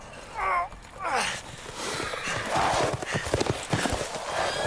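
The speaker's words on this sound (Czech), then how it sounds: "Wow, on jezdí i na koni." Horse hooves clip-clop in a quick rhythm in Resident Evil Village, mixed with game sounds and a few short vocal bursts.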